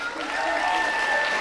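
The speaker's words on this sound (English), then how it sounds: "This is the noisiest crowd." Convocation crowd applauding a business administration graduate receiving a degree with distinction, a steady dense clatter of clapping filling the hall throughout with no pauses.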